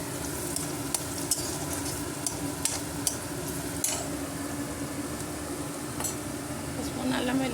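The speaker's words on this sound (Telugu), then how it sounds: "పసుపు, అల్లం వెల్లి పేస్ట్ వేసుకుందాము." Turmeric and ginger-garlic paste hits a hot pan for a ridge gourd and potato curry, sizzling and frying steadily while a utensil stirs and scrapes with light clicks, close and continuous.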